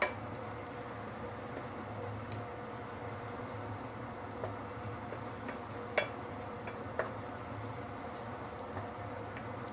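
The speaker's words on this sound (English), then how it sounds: "Once the oil is heated up, we can put in the dried shrimp." Dried shrimp sautéing in heated oil, a soft, steady sizzle with faint stirring and a few light clinks over the whole stretch.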